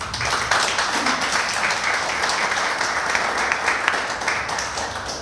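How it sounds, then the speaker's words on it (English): Steady applause from a crowd, dense clapping sustained at an even level throughout, with no one speaking over it. "will you please give a hand of applause for Dr. Keven Ellis"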